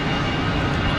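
An Emirates jet at Geneva Airport lines up and departs, heard as a brief, steady, broad rumble of engine roar with no voices.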